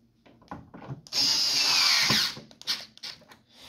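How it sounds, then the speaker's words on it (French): Last screws going back into an iMac G3 during a repair attempt, a single close power-screwdriver whir lasting about a second, with light handling knocks and clicks before and after. "On remet les dernières vis."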